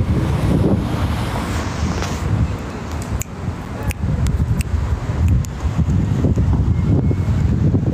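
Steady outdoor wind gusting on a hot day, loud broadband rush buffeting the microphone continuously with a few brief clicks and knocks, no talking.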